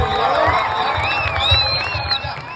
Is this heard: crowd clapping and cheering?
yes